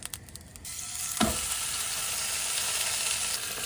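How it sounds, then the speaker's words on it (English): A fat prime ribeye hits beef tallow in a cast iron skillet and bursts into a loud, continuous sizzle and spatter that holds steady up close, with a brief clank as it lands. "Got a nice fat prime or ribeye to throw on the cast iron skillet"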